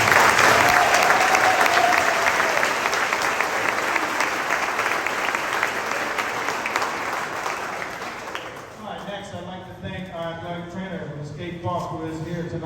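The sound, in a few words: audience applause for coaching staff at awards banquet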